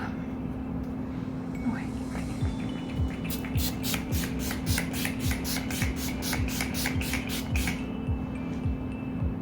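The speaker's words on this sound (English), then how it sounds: "This is the Urban Decay All Nighter Setting Spray." A rapid run of short misting sprays from an Urban Decay All Nighter setting spray, about a dozen quick hissing pumps in a row over a steady low hum.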